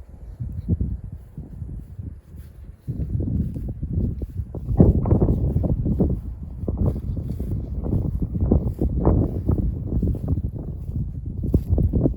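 Steady gusting wind roars against the microphone, a low rumbling buffeting that swells and fades throughout with no voices.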